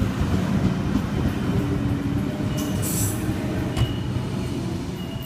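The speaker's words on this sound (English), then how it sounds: "K82 now departing platform number 1 for Campbelltown via the Cumberland line service." A Sydney Trains K set departs a platform at Quakers Hill, a steady loud rumble of wheels and motors close by, with a brief high squeal partway through.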